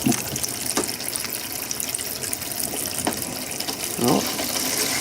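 Water runs from a tap in a travel trailer just fitted with a tankless water heater, a steady faint hiss of flow with a few soft clicks and knocks over it.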